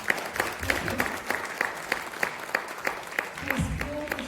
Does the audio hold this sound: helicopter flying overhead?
no